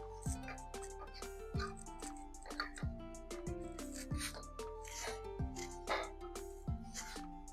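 Ridge gourd and lentils are stirred with water in a pot for a dal recipe, giving close, wet squelching and scraping in a steady rhythm with light clinks, over faint background music.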